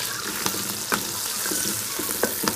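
Onions sizzling in hot oil with cumin, dried red chillies, green chillies and curry leaves in a pan, a steady crackling hiss with occasional sharper pops and stirring scrapes, close and without speech.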